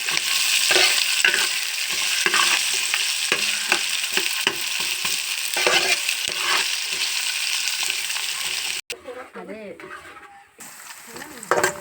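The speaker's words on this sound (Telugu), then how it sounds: "మనం ముందుగా జీలకర్ర కరివేపాకు ఉల్లిపాయలు వేస్తున్నాము" Cumin seeds, curry leaves and onions frying in hot oil for spinach rice, a loud close sizzle with stirring clicks, cutting off near the end to quieter clatter and brief faint talk.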